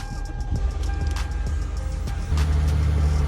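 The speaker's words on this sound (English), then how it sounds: "turn the car on" A car engine starts and settles into a steady idle, a low continuous hum that steps up in level partway through, heard close up during a roadside flat tire repair with no talking.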